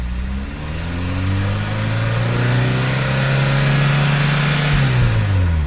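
Vauxhall Cavalier GL engine with SRi and GTE parts, revved gently under throttle: a close, steady mid-pitched drone that rises, holds, then eases back down, with no talk.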